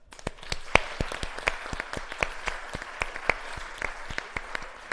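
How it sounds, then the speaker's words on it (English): A crowd applauds steadily, dense clapping filling the room with a few sharper individual claps standing out, continuing without pause. "a big round of applause"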